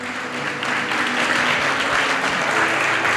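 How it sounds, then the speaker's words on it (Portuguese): Sustained applause from a church congregation, steady dense clapping filling the room at a loud, even level throughout. "Mas eu quero muitas palmas."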